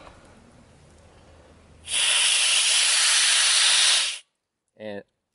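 Natural gas hissing hard from a shut-off valve opened a quarter of the way, a loud steady high-pitched rush that starts abruptly after a quiet stretch, holds for about two seconds, stops sharply, then a short voice follows.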